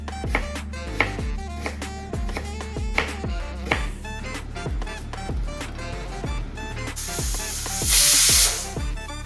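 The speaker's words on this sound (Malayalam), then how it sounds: "അപ്പോൾ കുക്കറിന് 2 വിസിൽ വന്നിട്ടുണ്ട്." A pressure cooker cooking beef hisses loudly and steadily as steam vents near the end, after a stretch of clattering kitchen knocks and taps.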